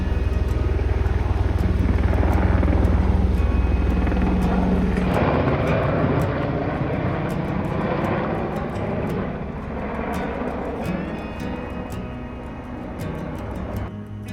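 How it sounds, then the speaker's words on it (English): A firefighting helicopter rumbles overhead in the Colorado backcountry wilderness, a loud, continuous low engine and rotor drone that shifts partway through and carries on steadily, with faint ticking in the background. "the low, unmistakable rumble of a firefighting helicopter"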